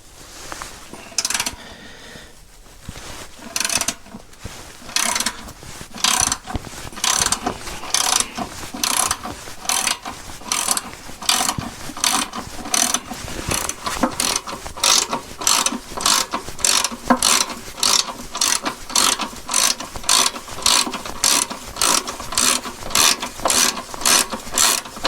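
A ratchet on a long breaker bar works a tight 15mm bolt on a Ford ST220 front subframe, giving a long run of rapid, evenly spaced clicking pawl strokes. The clicks speed up and stay steady and close, with no talking.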